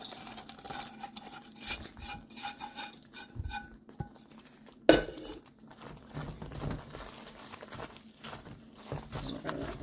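Nuts get stirred into a flaxseed mixture in a pan off the heat, heard as soft scraping and rubbing with light clinks of a spoon against the pan. One sharper knock comes midway, and the whole thing stays quiet with no talking.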